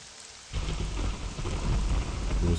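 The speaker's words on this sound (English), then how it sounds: "It was a dark, stormy night." A thunderstorm with heavy rain in a video game set in the town of Anvil: steady rain hisses across the surface, and a deep rumble of thunder swells in and keeps rolling loudly throughout.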